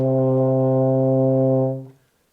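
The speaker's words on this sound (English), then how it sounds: "Okay, so C, first and third valves," A euphonium sustains a low C fingered with the first and third valves, a full, steady brass tone held close for about two seconds, then released smoothly.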